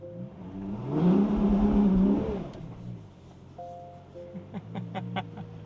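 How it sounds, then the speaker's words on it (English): Ferrari Purosangue with stability control switched off, its rear wheels spinning: a loud, rising engine roar that swells for about two seconds, then falls away into lower rumble and scattered squeaks and clicks. "It's very much the rear wheels only spinning."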